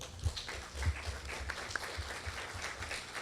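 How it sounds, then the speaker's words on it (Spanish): An audience gives a round of applause at a university law faculty event in Lima, a quiet, distant-sounding wash of clapping that holds steady throughout, with no speech on top. "Un voto de aplauso, por favor."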